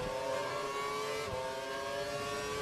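An F1 car in the F1 2012 video game at the Canada round, its engine held at full revs and maximum power in a steady high-pitched scream, loud and continuous with a slight pitch dip midway.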